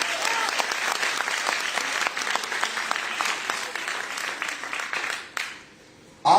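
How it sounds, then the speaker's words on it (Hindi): An audience at a women's day celebration event applauds a group from Goa, dense sustained clapping that fades out near the end before a sudden loud sound cuts in. "एक बार तालियां होनी चाहिए गोवा चिवर्स के लिए।"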